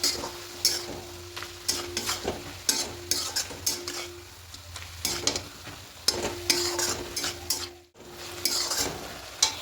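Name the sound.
stirring poppy seed paste into frying bete greens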